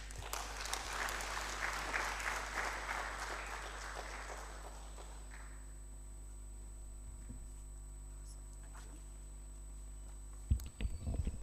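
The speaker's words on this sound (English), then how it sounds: "Give him a very loud hand clap" At a graduate research policy forum, the audience claps for the Honorable Minister in a strong wave that fades out after about five seconds, leaving a quiet room with a low electrical hum and a brief bump near the end.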